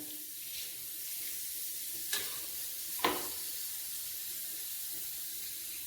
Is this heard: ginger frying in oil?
yes